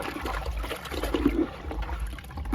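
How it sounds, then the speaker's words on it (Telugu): Liquid plant tonic is poured onto a large jamun (nerēḍu) plant, making a close, short trickling and splashing sound that runs unevenly for a couple of seconds over faint background noise. "నేరేడు మొక్కకి ఇచ్చేద్దాము లిక్విడ్"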